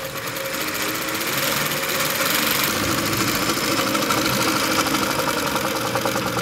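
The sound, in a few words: AtlasUSA AT2284 sewing machine stitching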